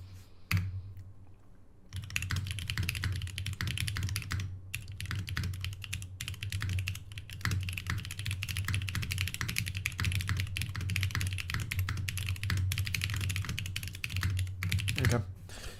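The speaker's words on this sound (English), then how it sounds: "That was kind of fucking clean typing." Rapid, continuous clacking of a computer keyboard under fast typing, dense keystrokes running steadily for about fifteen seconds after a short pause near the start, close and fairly quiet.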